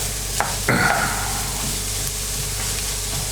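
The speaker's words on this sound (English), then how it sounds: "So you want to stir that around." Corned beef hash, St Helena style, frying in a pan while being stirred: a steady close sizzle with a brief scraping stir near the start, then continuous hissing alone.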